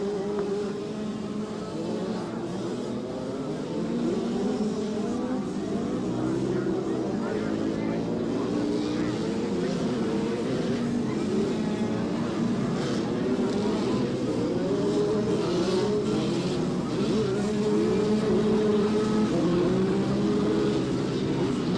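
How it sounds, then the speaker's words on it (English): Three-wheelers with 85cc Kawasaki motocross engines racing at a 1985 AMA national event in Miami, a steady buzzing drone of small two-stroke engines rising and falling at mid distance, with a commentator talking over it. "Looks like we got a lot of 85cc Kawasaki motocross engines stuffed into some sort of a three-wheeler frame"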